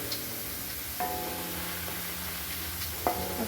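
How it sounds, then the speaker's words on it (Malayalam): Jackfruit chips frying in oil over a medium flame, a steady low sizzle running throughout with a couple of sharp clinks of a utensil against the pan. "ഒരു ഗോൾഡൻ കളർ ആവുന്ന വരെ നമുക്ക് മീഡിയം ഫ്ലെയിമിലിട്ട് വറുത്തെടുക്കാം"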